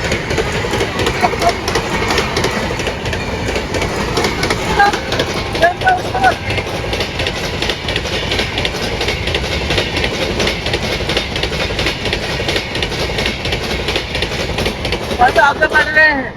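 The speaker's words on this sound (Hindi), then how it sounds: "और ट्रेन आ रही है भाई" A train comes along the track, rumbling and clacking steadily and loudly throughout, with wheel squeals rising near the end while people talk over it.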